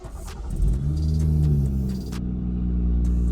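BMW engine cold start heard from inside the car with the windows up, a low steady rumble that swells as the engine fires and then settles into an even, muffled idle.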